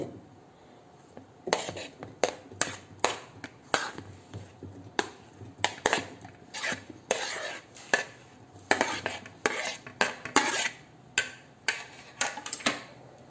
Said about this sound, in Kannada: ಈಗ ನಾನು ಕಟ್ ಮಾಡಿದಂತಹ ಪೇರಳೆ ಹಣ್ಣಿನ ತುಂಡನ್ನು ಈ ಮಿಕ್ಸಿ ಜಾರಿಗೆ ಹಾಕ್ತೇನೆ